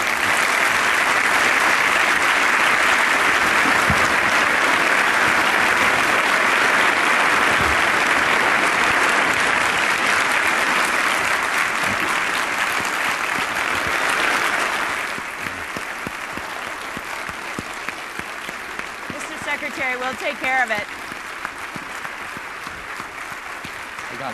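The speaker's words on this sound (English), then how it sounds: "The end of the applause." Large audience applauding after a keynote speech at an energy innovation summit, sustained dense clapping for about fifteen seconds that then thins and quiets as the crowd settles, with a voice briefly heard near the end.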